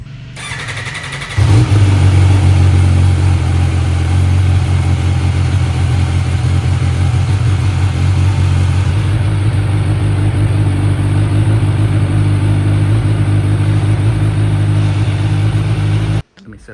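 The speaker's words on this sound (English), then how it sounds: "So we're about to get a little cold start right now on the Brutality 1000" An MV Agusta-style Brutality 1000 RR superbike cold-starts after a brief crank, then holds a loud, high, steady fast idle close by, with a voice talking faintly in the background.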